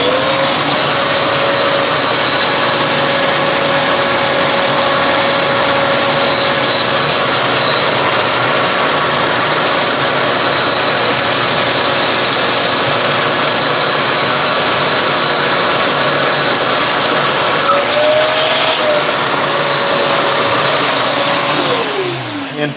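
A power drill bores into a bowling ball, giving a loud, steady motor whine that runs unbroken throughout, with a slight pitch dip and rise near the end.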